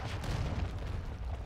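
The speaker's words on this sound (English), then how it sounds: "Friendly cruise missile approaching target." Deep, rumbling blast from a cruise missile explosion in Modern Warfare 2, a continuous roaring boom that fills the whole moment, loud and heavy in the low end, no talking.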